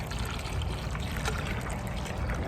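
Water trickles and pours steadily into a backpack sprayer tank being filled with a gallon for a quinclorac weed-killer mix, a constant close stream without talk.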